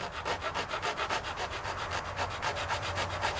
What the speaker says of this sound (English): I'm just going to use a rat tail file